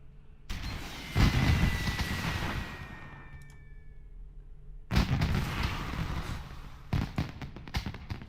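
Fireworks shot from a launcher in World of Warcraft Classic crack and burst in two loud volleys, a whistling rise and sharp pops followed by a pause, then a dense run of bangs, with no talk.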